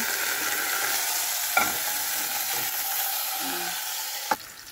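Steady sizzling of fish frying in hot oil, a constant crackling hiss with a couple of brief clanks from a utensil.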